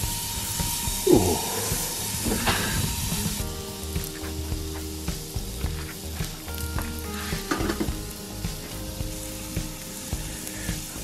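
Steady, crackling sizzle of beef rump steak on a hot Ozpig cooker grill, close up and continuous, with a few spits and pops throughout.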